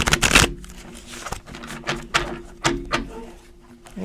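Tarot cards shuffled by hand in a quiet room, a series of brisk papery riffles and soft taps, a loud burst at the start followed by several shorter bursts, close and alone.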